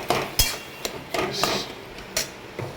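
Bottle gourd curry being stirred in a pan, with a utensil clinking and scraping against the metal in a handful of sharp, irregular knocks close by, no talk.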